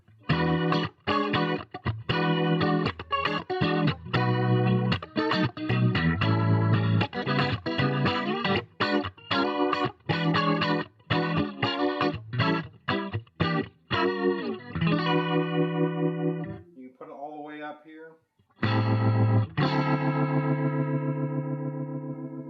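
Guitar notes pass through a Donner Alchemy pedal's rotary setting, imitating a Leslie speaker on a Hammond organ, each chord swirling and warbling in a steady rhythmic phrase, loud and close, with someone speaking briefly.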